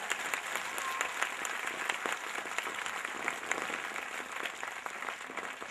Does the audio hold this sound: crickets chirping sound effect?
no